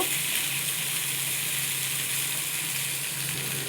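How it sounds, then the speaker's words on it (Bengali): Pumpkin and potato pieces frying lightly in oil in a pan, giving a steady, even hiss that holds at one level throughout, close and alone with no voices. "কুমড়ো আলুটা আমি হালকা করে একটু ভেজে নেব"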